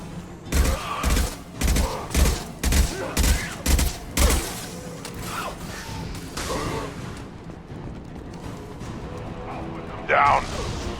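Gunfire in the video game Mass Effect 2: a rapid, evenly spaced string of loud shots over the first four seconds, then quieter combat noise with game voices and a brief loud burst near the end.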